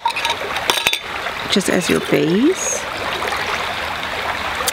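Water trickling through a small funnel into a spray bottle, a close, bubbly running pour under a person talking, with a few clinks from the bottle.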